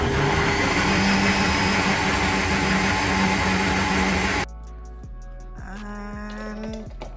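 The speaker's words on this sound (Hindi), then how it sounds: "अब इसको बहुत अच्छे से हम ब्लेंड करेंगे बहुत बहुत अच्छे से" An electric blender whirs loudly as it blends a coffee smoothie with water, a steady dense motor roar that cuts off partway, leaving a quieter stretch with faint clinks and tones.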